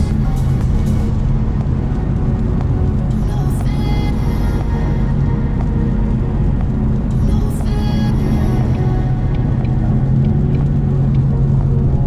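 A GT sports car driving on a rainy road, heard from inside as a loud, constant low engine and road rumble with faint rising whine swells, no talking.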